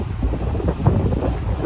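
Wind rushes steadily past the microphone on a 40-baht river boat ride along the Chao Phraya River, with a low rumbling buffet of air and water close by, alone without voices.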